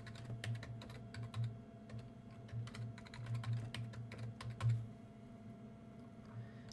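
A password typed on a computer keyboard: quick irregular runs of soft key clicks, close and fairly quiet, with brief pauses between bursts, no talking.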